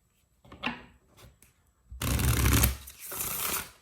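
Tarot cards shuffled and handled, starting with a few soft separate flicks and slides, then a louder sustained riffle-shuffle burst that pauses briefly and resumes, close and crisp with no talking.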